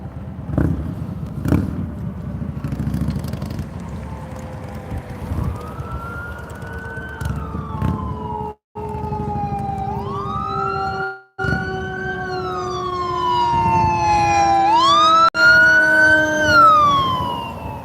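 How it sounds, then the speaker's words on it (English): Fire truck sirens in a city plaza in Cheyenne: loud wailing sweeps that rise and fall, joined near the end by a second siren, over rumbling engine and traffic noise as the trucks pass close by. "And I hear another fire truck coming."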